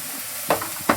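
Turmeric and chili powder sizzle in hot oil with a steady hiss, broken by two short scraping stirs of a spoon in the pan.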